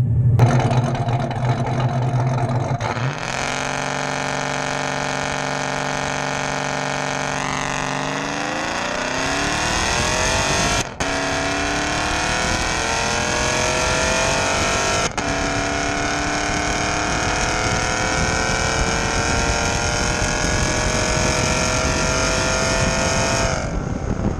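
A 2014 Chevrolet Silverado 4WD pickup with a big cam, built by Streetcraft, launches at full throttle with traction control off: a loud, close engine idles, then winds up through rising revs and gear changes, roaring steadily to the end.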